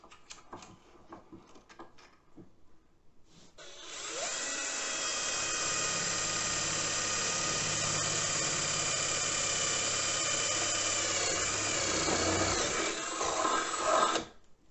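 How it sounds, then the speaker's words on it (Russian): After some handling clatter, a power drill with an 8 mm bit whirs steadily at a constant pitch for about ten seconds, close by, then winds down. "Отверстие буду сверлить 8-м сверлом."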